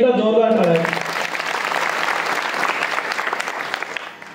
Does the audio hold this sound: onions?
no